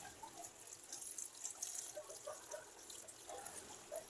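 Sweet potato leaves are rinsed under running water, a soft, quiet splashing and trickling with small irregular drips and patters.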